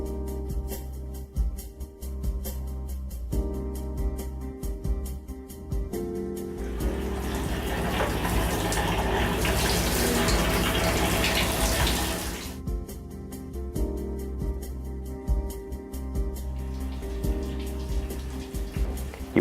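Water runs from a tap into a sink as a face-shield filter is washed, a steady splashing stream that starts after a few seconds and stops abruptly, with handling clatter and faint sink noises around it.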